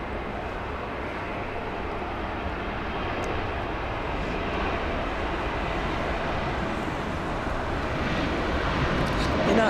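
A plane flying overhead near LAX on a clear day, a broad steady jet roar that slowly swells louder, with people talking faintly beneath it.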